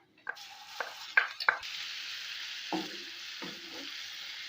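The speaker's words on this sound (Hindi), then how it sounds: "ये मैंने घी लिए गर्म होने के लिए रखा है। ये हस्बे ज़रूरत आप ले सकते हैं। मैं इसमें लहसुन को शामिल करूँगी।" Garlic drops into hot ghee and a bright, steady sizzle starts, with a few clinks and stirring taps over the hiss.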